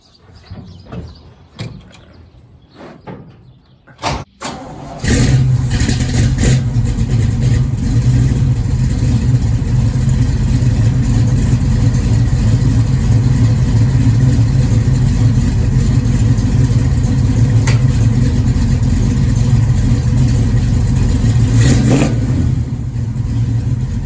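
A Pontiac 455 stroked to 494 car engine fires up after a few quiet seconds of handling noise, then holds a loud, continuous rumbling rev as the car drives out on the road.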